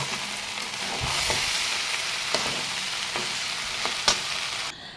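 Food fries in a pan at home with a steady broadband sizzle, punctuated by a few sharp clicks and scrapes of a utensil before the sound cuts off near the end.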